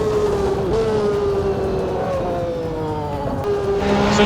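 A 1992 McLaren MP4-7 Formula 1 car in Assetto Corsa holds a steady, high, buzzing engine note that shifts pitch gently through a lap, running continuously and loud with no talk.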